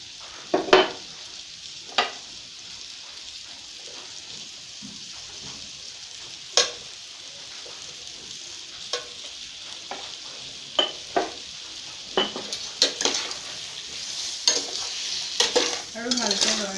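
A jackfruit curry stirred in a pan, a gentle simmering sizzle underneath repeated scraping and knocking of a spoon against the metal, the strokes coming irregularly and growing busier toward the end.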